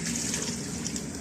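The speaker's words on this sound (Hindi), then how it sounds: "तो अब मैं इसमें डाल रही हूँ 3 से 4 गिलास पानी" Water poured from a glass into a cooking pot of chicken with chickpeas, a steady continuous trickling splash that runs unbroken and close by.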